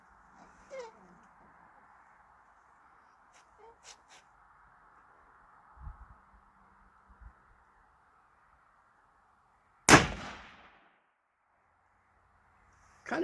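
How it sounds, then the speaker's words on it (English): At an outdoor range, one loud sharp gunshot from a delayed hang-fire round cracks out amid long stretches of quiet, with a few faint clicks and thumps before it. "Kind of detected a little bit of a hang fire there."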